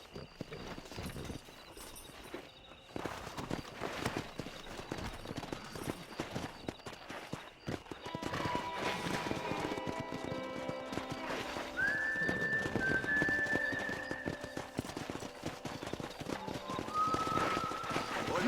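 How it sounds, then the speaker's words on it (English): Wild horses in the Red Dead Redemption video game: hooves clip-clop and a horse whinnies amid game ambience and a soft whistling wind, with the activity growing fuller and louder in the second half. "That ranch hand said there's a pack of wild horses nearby."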